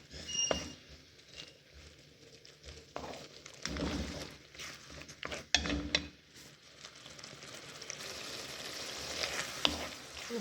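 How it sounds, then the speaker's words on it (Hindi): A masala of tomato, onion, ginger garlic, coriander powder, red chilli and turmeric fries in oil for palak chana dal, with a soft, continuous sizzle and intermittent stirring scrapes and taps. "मसाला हमारा बहुत अच्छी तरह भुन चुका है, ऑयल इससे अलग हो गया है"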